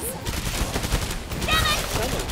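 Dense, continuous gunfire in the video game Killing Floor 2 blends into a loud, noisy barrage with overlapping shots and little pause.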